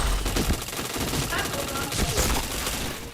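Loud continuous automatic gunfire from a shooting video game, a dense rattling volley that runs throughout, with a voice faintly mixed in beneath the shots.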